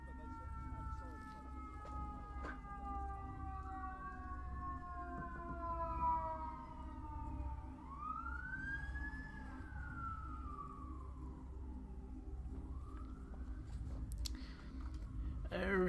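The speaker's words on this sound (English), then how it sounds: "Stupid emergency vehicles." Emergency vehicle sirens in a visual novel video game, several overlapping wails rising and falling over a steady low rumble, continuous and moderately loud throughout.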